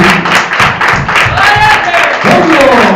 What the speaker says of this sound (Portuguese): Então aplauda bem forte a Jesus.